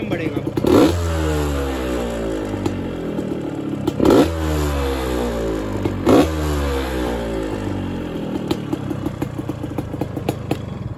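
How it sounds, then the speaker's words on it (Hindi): A two-stroke Yamaha RX135 motorcycle engine idles with a rattly putter and is revved hard three times, each rev rising sharply then dropping back, close and loud. "मैं अभी बाइक स्टार्ट करके दिखाता हूँ तुम लोग को, और तुम आवाज़ बताओ कैसा है"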